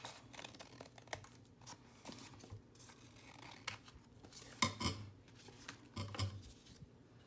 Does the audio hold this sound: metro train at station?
no